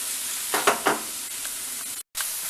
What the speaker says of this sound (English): cabbage is cooking down now